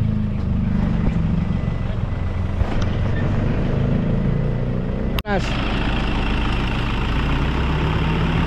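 A car engine struggling to run, a steady low rumble throughout with a sharp click or knock midway, a voice talking over it.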